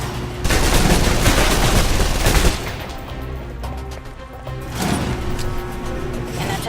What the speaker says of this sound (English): If you're trapped in close quarters with multiple opponents, the SMGs can help clear the room quickly.